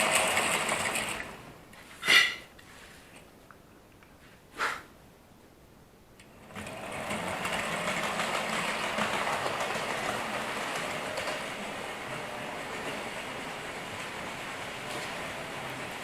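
A model railway freight train runs on a layout, giving a steady, mechanical rolling whirr. It starts after a few quieter seconds broken by a couple of sharp clicks and continues evenly to the end.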